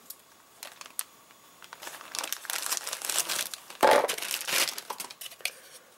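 A plastic bag of parts for a Trumpeter LAV C2 model kit is cut and torn open, giving close crinkling and crackling plastic rustle that builds in bursts with a sharper rip partway through.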